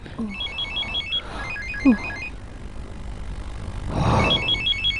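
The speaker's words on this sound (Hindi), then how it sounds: "किसका फोन है" A telephone rings with a trilling electronic chime in repeated bursts, alongside brief background sounds and a short whoosh of noise.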